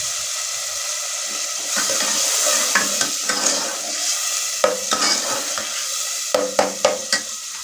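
Chickpea masala sizzles in a pan after a sprinkle of water, with a steady hiss of frying under repeated close spoon scrapes and stirring clicks, and no talk.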